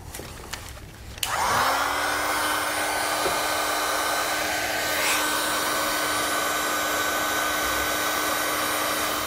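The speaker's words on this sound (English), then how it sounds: "go ahead and grab a heat source and seal up the buck connector ends" A heat gun switches on with a sharp click and rises into a loud, steady whooshing roar while sealing butt connector ends on wiring for a braking system install in a 2017 Honda Fit, running unbroken to the end.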